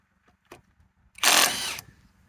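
A Hercules HCB84B2 compact cordless impact wrench loosens a bolt in one loud, buzzing hammering burst of about half a second, preceded by a faint click.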